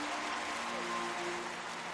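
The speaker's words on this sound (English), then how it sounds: "There you can see the home crowd showing their support and admiration for their players" A home crowd applauds at a Japanese professional basketball game between Utsunomiya Brex and Kawasaki Brave Thunders, a steady wash of clapping filling the arena at moderate level without pause.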